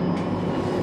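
Rumbling interior of a tram in Bern, steady low-frequency drone of the moving car with a constant mechanical hum and no distinct clacks, heard continuously at moderate level.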